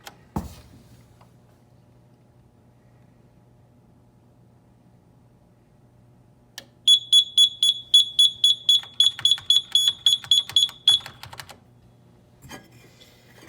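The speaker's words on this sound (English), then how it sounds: "Now if you come on the area where the alarm's going off" A high-heat fire alarm detector during a training demonstration sounds a rapid, piercing electronic beeping burst for about four seconds after a long quiet stretch with a low hum, ending abruptly, with a thud at the start and near the end.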